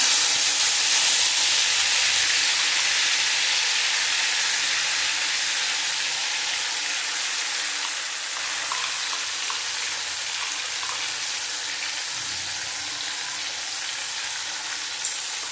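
Radhuni spice paste, ground with chili, sizzles and hisses steadily in a hot frying pan, a dense close frying sound that fades slightly over time with no voices.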